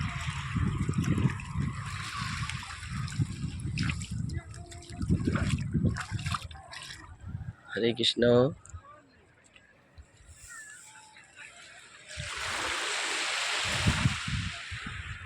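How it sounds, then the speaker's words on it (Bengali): Sea waves wash ashore and surge with a broad rushing hiss, swelling loudly near the end, while voices talk and chant over the water, at Gangasagar. "দেখুন কত সুন্দর সুন্দর ঢেউ আসছে কুলকুল করে ঢেউ আসছে"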